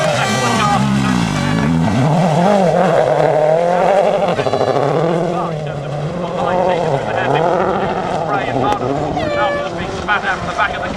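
A rally car at the 2010 Wales Rally GB charges toward a water splash, its engine revving and rising and falling in pitch under continuous excited commentary.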